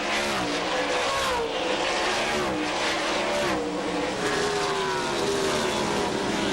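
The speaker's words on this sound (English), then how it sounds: "Matt Kenseth in the 17 car trying to look on the inside of Rusty Wallace" NASCAR Winston Cup stock cars racing at Watkins Glen road course, a loud continuous engine roar with pitch sweeping up and down as cars pass and shift, steady and dense throughout.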